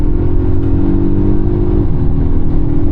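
A Polestar 1 accelerates hard on a race track, its engine note a loud, steady drone close by that drops in pitch partway through as the car upshifts.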